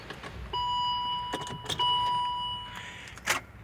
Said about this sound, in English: shut the car off here